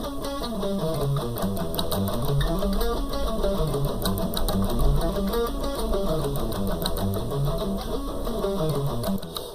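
Palm-muted guitar picking exercise, a steady stream of short, damped plucked notes climbing and falling across the strings in an even, chugging rhythm, close and alone.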